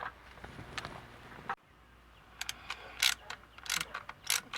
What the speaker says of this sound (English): Okay, back, tightening it up.